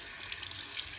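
A tap runs steadily into a sink during handwashing, a close, even hiss of flowing water lasting about a second with no voices.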